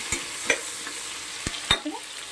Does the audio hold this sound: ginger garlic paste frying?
yes